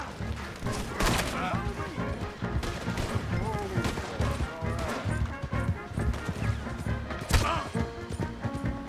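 Gunfire in Red Dead Redemption 2 during a chase, with repeated sharp shots and cracks over galloping hooves and clattering action, while characters shout over the chaos.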